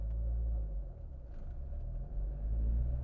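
Steady low rumble of a 6-speed LS1-powered C5 Corvette fixed roof coupe underway on an abandoned road, loud road and engine drone filling the cabin continuously with no talk.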